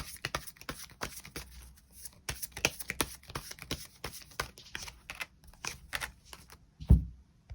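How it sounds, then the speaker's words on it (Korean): Tarot cards being shuffled and drawn, a rapid series of soft flicking card snaps with short pauses, close and fairly quiet, ending in a louder thump near the end. "이번 5월을 더욱더 행복하게 즐겁게 보내기 위한 조언의 카드 무엇이 있을지 추가 카드 뽑아보도록 하겠습니다"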